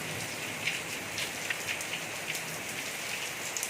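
Steady rain pours outdoors on a Karwa Chauth evening, a dense continuous hiss with scattered sharper drops pattering on surfaces, no voices.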